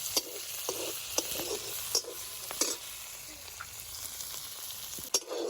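Capsicum stirred in hot oil in a pan with a little salt, a steady sizzle broken by sharp clacks of the spoon against the pan at irregular intervals, close and fairly loud, with no talking.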